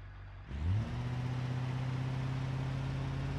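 The engine of a Gavril Roamer in BeamNG cranks and catches after a brief quiet moment, surges, then settles into a loud, even, humming run that holds steady to the end.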